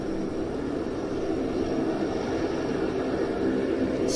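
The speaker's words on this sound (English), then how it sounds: "C-130E from number 6 Squadron of the Pakistan Air Force" Pakistan Air Force C-130E from No. 6 Squadron performing a flying display at the Royal International Air Tattoo, a steady broad turboprop roar held at a distance, constant and without talk.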